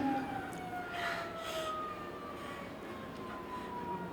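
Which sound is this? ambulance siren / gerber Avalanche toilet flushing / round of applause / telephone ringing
ambulance siren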